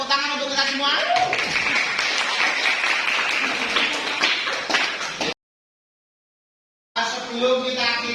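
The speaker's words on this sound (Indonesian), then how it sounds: "Tepuk tangan untuk kita semua." A classroom of students claps hands together in a busy, scattered burst with some voices mixed in, then cuts to silence before the noise briefly returns.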